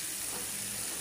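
Water poured into a pan of salted hilsa fish curry that has been frying down, giving a brief, steady rushing hiss like running tap water, close and even, with no talking.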